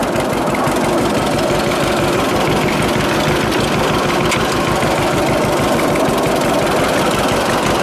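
A 1946 John Deere AR tractor engine runs steadily and loud up close, its rapid low putting beat continuous throughout with no talking.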